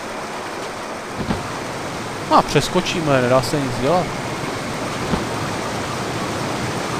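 In Indiana Jones and the Infernal Machine, water flows as a constant broadband rush throughout, steady and fairly loud, with someone talking briefly over it.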